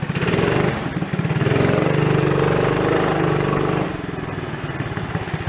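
A fifty-year-old Rupp mini bike's small engine runs close and loud, revving higher for a few seconds then dropping back to a pulsing idle.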